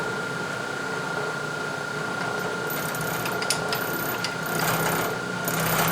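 A milling machine side-milling a steel knurl holder part gives off a continuous mechanical whir with a ringing tone and gritty cutting chatter that swells slightly in the final seconds.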